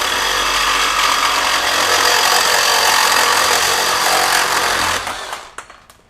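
A Flex FX2241 24V brushless one-handed reciprocating saw cutting through 1-inch conduit, a loud continuous buzzing rasp that runs steadily for about five seconds before the blade finishes the cut and the motor winds down.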